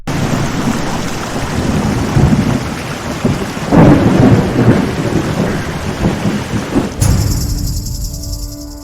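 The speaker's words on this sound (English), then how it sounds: "The lightning struck about like a mile away." Thunder after a lightning strike about a mile off in the Pantheon: Rise of the Fallen video game, a long distant rumble rolling under steady rain, with no talk over it.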